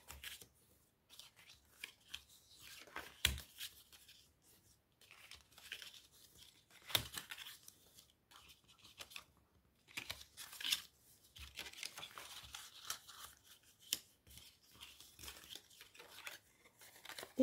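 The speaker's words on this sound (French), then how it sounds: "Je marque mes plis." Paper is creased and folded by hand, giving intermittent crisp crinkles and sharp swipes, close and quiet, with pauses between the folds.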